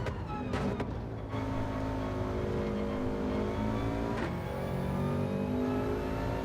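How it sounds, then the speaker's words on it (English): A Subaru with a 4-inch exhaust system from the downpipe, fitted with a catalytic converter, drones loudly and steadily while driving, a continuous engine and exhaust note with a brief louder surge near the start. "The exhaust is loud."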